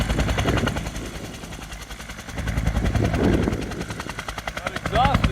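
Helicopter at a wildfire scene on Wilson Creek, its rotor chop pulsing steadily at mid distance with a rapid, gunfire-like beat, while people talk intermittently nearby.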